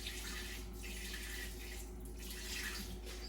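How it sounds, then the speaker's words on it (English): Excess water poured out of a pot of beans being prepared for refried beans, a steady, continuous splashing gush of water with no talking. "Right now, I feel like I added way too much water, so I'm gonna dump some out"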